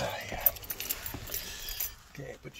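Keys jangling close up inside a truck cab, a few quick metallic rattles spread over a couple of seconds amid handling noise and soft rustling.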